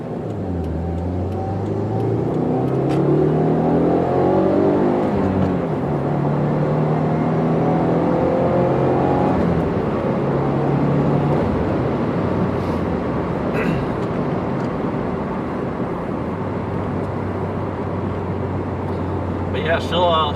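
A 2015 Subaru WRX with a six-speed gearbox accelerates hard, its engine note climbing through the revs in rising sweeps, with a steady cabin drone underneath and someone talking throughout.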